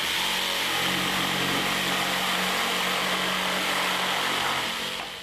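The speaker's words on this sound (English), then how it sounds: "See what a dramatic difference the orbital action makes to the cutting speed, particularly in thick timber." A Bosch GST 140 jigsaw with orbital action cuts through thick timber, giving a loud, steady motor buzz and blade rasp that runs without a break and eases off slightly near the end.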